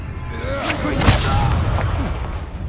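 A whooshing burst of flame from the Incendio spell in Hogwarts Legacy, a rushing boom swelling near one second and then crackling away, with character voices murmuring underneath.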